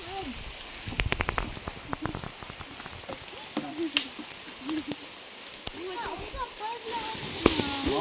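Rain falls on an outdoor charcoal-digging site, a soft steady patter with scattered drips and knocks, while people talk close by through much of it.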